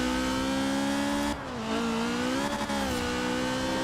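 A stock V8 engine in a GT70 rally car in Forza Horizon 4 revs hard and steadily up close, its droning pitch dipping once at a gear change and then climbing again.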